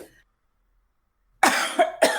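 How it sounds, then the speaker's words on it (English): Two sharp coughs close to the microphone, one after another, after a moment of silence. "I think I should have blocked my cough"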